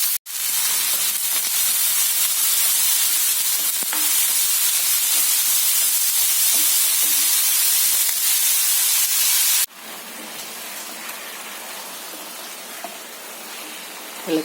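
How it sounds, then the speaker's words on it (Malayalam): Onions frying in oil in a pan, a loud steady hiss of sizzling that drops to a quieter sizzle partway through, with no talking. "സബോള വറുത്തുക."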